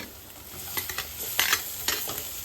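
Chopped onions sautéing in a pan for mushroom pepper gravy, a soft steady sizzle with a few scraping stirs of the spoon, close and moderately loud, no voices.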